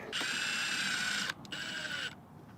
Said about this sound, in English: we can just send it with one of our screws here